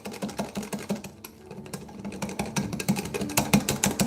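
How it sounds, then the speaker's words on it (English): A small hand whisk beats flour into Burnt Basque cheesecake batter in a bowl, the mixer stopped, giving a quick, steady run of close, rhythmic ticking strokes with a brief pause partway through. "We give it a whisk until the flour is fully incorporated."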